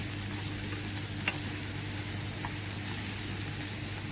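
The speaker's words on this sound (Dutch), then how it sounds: "Roer de kip goed door." Chicken for a poke bowl stirred in a frying pan of hot olive oil, a constant sizzle with a couple of brief utensil clicks against the pan, close and steady with no voices.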